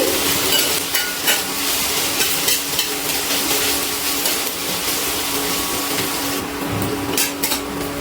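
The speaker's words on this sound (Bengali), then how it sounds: "পেঁয়াজগুলো তেলের মধ্যে হালকা ভেজে নিচ্ছি।" Sliced onions frying lightly in hot oil for a potato and bottle gourd masoor dal, a steady close sizzle with occasional scraping stirs of a spatula against the pan, no talking.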